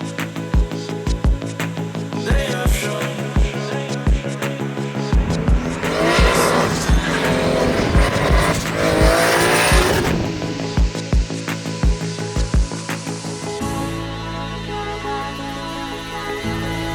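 A BMW E30 with a Vibrant muffler and a rebuilt Vanos drives hard, with a loud, continuous engine note that rises and falls through revs. Tire squeal builds in the middle, then the engine settles to a steadier drone near the end.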